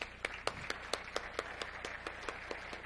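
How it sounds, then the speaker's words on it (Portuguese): Light, sparse clapping from a small audience at the opening ceremony of The Seafood Summit Brazil 2018, a dozen or so distinct claps in a loose, slightly uneven rhythm, moderately distant over a low room hum. "ao qual eu peço a todos uma salva de palmas"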